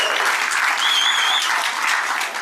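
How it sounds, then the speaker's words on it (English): Audience applause at a Yud Tes Kislev farbrengen, steady and full throughout the short stretch, with many hands clapping together in a hall. "A big round of applause."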